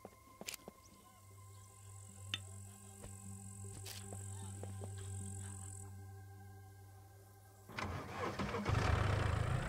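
Car engine in the SCUM video game starts after a quiet stretch, catching near the end and settling into a loud, rough idle close by, with ambient game tones and scattered clicks before it.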